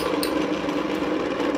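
A portable dry mill grinder, used for grinding cacao, coffee, peanuts, soya, rice and corn, runs its motor in a steady, even whine with a constant, loud, close drone and no breaks.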